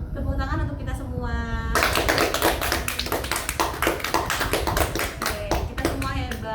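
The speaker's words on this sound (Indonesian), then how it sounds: "Tepuk tangan untuk kita semua" A small counselling group in a classroom session claps hands together, a burst of fast, dense applause that starts after a teacher's spoken call and continues close and loud to the end.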